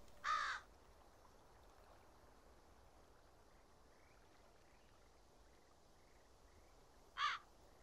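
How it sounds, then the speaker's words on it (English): A crow caws twice in the video game Calico, once at the start and again near the end, each call short and clear over a faint, quiet ambient background. "Oh my god, it's a crow!"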